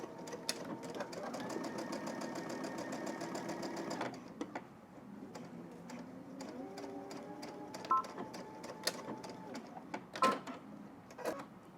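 A sewing machine stitches around a pocket on a garment with a 5/8 inch seam allowance, running in steady mechanical bursts at shifting speeds, then pausing for a scatter of clicks and knocks.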